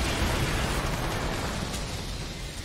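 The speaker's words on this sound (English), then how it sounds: "Why did my bike explode?" A bike blowing up in Earth Defense Force 5, one loud, close explosion with a rumbling roar that slowly fades over a couple of seconds.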